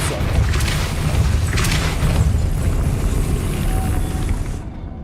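The Depulso force spell being cast in Hogwarts Legacy on PS5: a broad, rumbling blast that holds loud and steady for several seconds before fading off.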